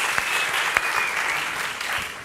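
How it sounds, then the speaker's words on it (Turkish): Studio audience on a Turkish television show gives a steady round of applause, a dense continuous wash of clapping heard close and fairly loud for a couple of seconds. "Bu arada Nil Kara İbrahimgil'e de bir büyük alkış gönderelim."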